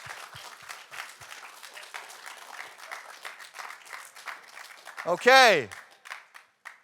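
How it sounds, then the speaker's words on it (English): Students at a high school MYP assembly give a round of applause: many hands clap in a steady crowd patter. Near the end a loud cheering whoop rises above the clapping, and then the clapping fades into scattered claps. "Round of applause."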